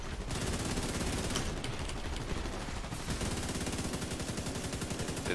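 Sustained automatic gunfire from The Division 2, dense rapid bursts layered into a near-continuous fusillade throughout, loud and close with no talk over it.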